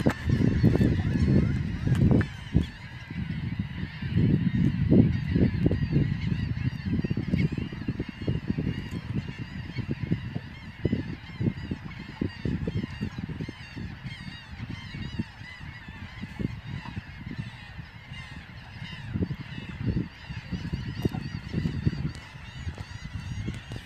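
A large flock of birds, mostly geese honking, calls continuously at sunrise on Egmont Key, a dense, loud chorus of overlapping honks with no talking.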